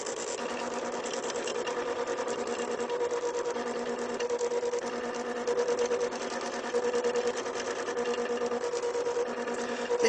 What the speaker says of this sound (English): It is really embossing really nicely in there.